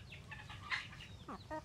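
A rooster among hens gives a few soft, short clucks at close range, quiet and brief against a faint outdoor background.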